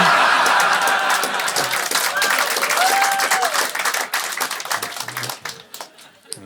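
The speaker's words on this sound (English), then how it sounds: "First applause break of the show, targeted at the working class" Applause and scattered cheers from a comedy show audience in Melbourne, loud dense clapping at first that thins and fades toward the end.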